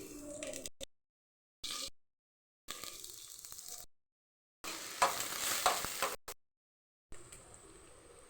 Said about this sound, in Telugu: లో ఫ్లేమ్లో పెట్టుకొని కొంచెం ఆయిల్ వేసి బాండ్లీలో ఫస్ట్ కొంచెం జీలకర్ర వేయాలండి.